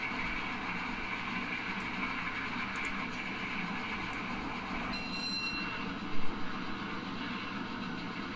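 A steam-hauled express in the Train Sim Classic game runs along the North Wales Coast, making a continuous, moderately quiet rolling rumble on the rails with a brief clunk near the end.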